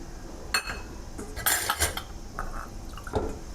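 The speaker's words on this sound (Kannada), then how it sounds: "ಇನ್ನೊಂದು ಕಪ್ ನೀರು ಹಾಕೋತಾ ಇದ್ದೀನಿ." Another cup of water going into a pot of rice being cooked, with metal utensils clinking against the pot in short bursts and a light liquid splash, close and moderately loud.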